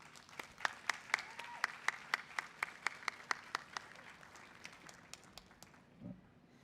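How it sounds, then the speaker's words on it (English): An audience at a graduation claps in a sparse, rhythmic pattern, distinct hand claps landing at a steady pace before thinning out, with a brief faint sound near the end. "I do want to take some time to give all of you a round of applause"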